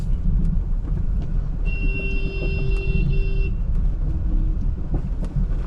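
A car is driven and maneuvered in a tight space, giving a steady low rumble of the engine and road, with a brief tonal beeping partway through.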